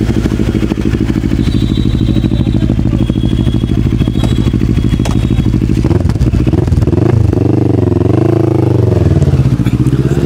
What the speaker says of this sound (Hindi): भैया ने अपनी बाइक रेडी कर ली है, भैया राइड कर रहे हैं।